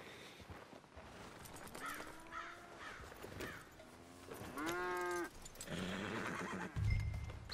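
A horse in the Red Dead Redemption 2 video game gives several whinnies and snorts, ending in one long rising neigh, with hooves shifting and faint game ambience around it.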